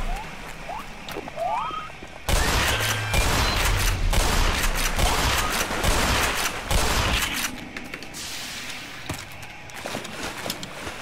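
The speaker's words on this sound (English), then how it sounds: "I gotta stop using so much shotgun" Shotgun fire in the video game Black Mesa: Xen, with dense, loud blasts and chaotic combat noise filling most of the stretch after a quieter opening.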